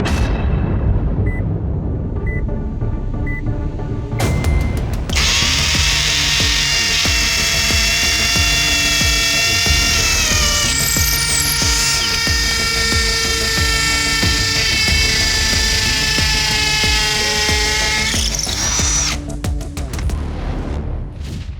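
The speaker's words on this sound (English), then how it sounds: "We're loading it up with a 3/8-inch masonry bit into a cinder block with Portland cement." A FLEX power drill fitted with a 3/8-inch masonry bit bores into a cinder block filled with Portland cement, a loud continuous grinding whine running unbroken for about fourteen seconds between quieter stretches of handling, with no talk over it.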